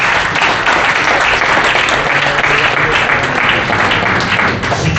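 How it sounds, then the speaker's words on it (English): Large crowd at the World Ducati Week conference applauding rider Fabio Di Giannantonio, a loud, dense and unbroken wall of clapping that stays even throughout. "So first big applause to Fabio Di Gianantonio."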